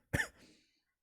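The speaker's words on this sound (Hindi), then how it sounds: "थोड़ी गले में खराश होने की वजह से खांसी आ रही है" One short, sharp cough from a man with a sore throat, close and clear, trailing off into a brief breathy tail.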